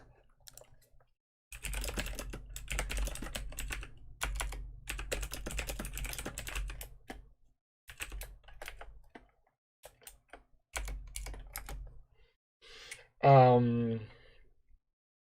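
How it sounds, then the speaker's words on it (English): Typing on a computer keyboard in rapid bursts of close, crisp key clicks separated by pauses, with a brief spoken sound near the end. "I need to stop typing to people because it messes with my train of thought."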